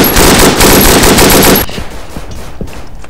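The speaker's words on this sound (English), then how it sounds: "Our machine gunners aren't doing too good." Very loud, close machine gun fire in the World War I shooter Verdun, a rapid continuous burst lasting about a second and a half before cutting off, followed by quieter battlefield noise and distant shots.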